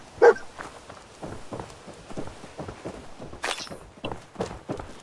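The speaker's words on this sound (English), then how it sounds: "Don't know why the dog is here." A dog in the video game Fallout 4 gives a short, sharp bark-like burst at the start, then soft, steady pattering footsteps carry on at moderate volume. No one speaks.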